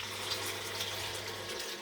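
Water poured into a simmering meat stew (siga wot) in a cooking pot, a steady continuous splashing pour lasting the whole moment, close and fairly loud with no voices.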